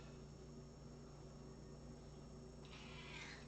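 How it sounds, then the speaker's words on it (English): A cat at a feline rescue center meows faintly, a short soft call near the end over a steady low electrical hum in a quiet room. "I hear that scraggly kitty."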